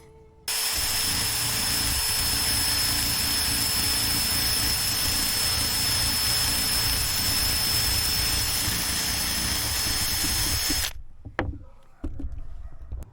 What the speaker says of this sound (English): I'm going to try to use my wire wheel and remove this and grind it off.